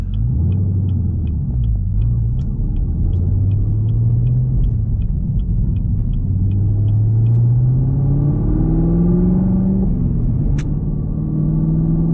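A Nissan Z manual-transmission car engine hums and rises in pitch through several gear changes, with a steady road rumble inside the cabin and a faint repeating ticking early on.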